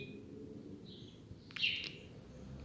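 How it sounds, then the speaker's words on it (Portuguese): Small birds chirp in the morning, a few faint, high, brief tweets scattered over a quiet low background hum, the last call a little louder. "os passarinhos dando bom dia para você"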